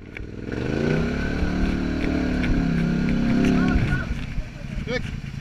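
An ATV engine on rough ground with large rocks near Lopare, Bosnia, revs up and holds throttle in a loud, rising drone for several seconds, then drops off while people talk nearby.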